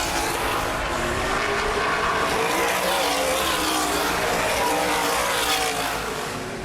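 Outlaw sprint cars racing on a dirt oval at Baer Field Speedway, a loud continuous engine roar held steady throughout with no talk over it.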